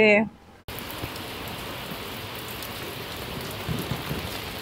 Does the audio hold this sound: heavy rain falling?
yes